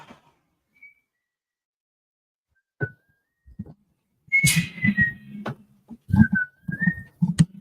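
Someone whistles a short, halting melody, a few sliding notes over muffled taps and movement noises nearby.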